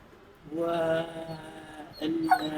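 A dog staying at a boarding facility whimpers and whines in soft, drawn-out tones, fairly faint and close, with a couple of higher yelps near the end.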